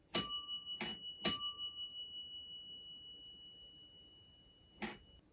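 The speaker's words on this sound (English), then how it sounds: "And there's the bell right there." Adams Survivor Plus elevator call station bell: three quick bright dings in the first second and a half, each ringing out with a long fading tone, then one more strike near the end after a pause.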